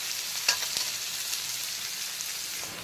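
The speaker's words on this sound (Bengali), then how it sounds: "পেঁয়াজ কুচিটা হালকা বাদামি কালার করে ভেজে নিয়েছি" Chopped onion fries in a pan over low to medium heat for a Bengali ridge gourd curry, giving a steady close hiss with a few brief stirring scrapes and no talking.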